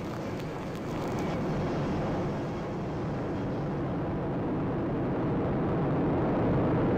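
An Atlas V rocket climbing toward Max-Q on the USSF-51 launch gives a continuous, dense broadband roar that holds steady throughout, with no talk.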